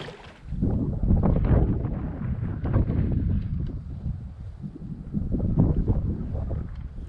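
Gusty wind buffets over a wilderness lake in a continuous low roar that swells and eases, loud and close with rumbling bursts and no voices.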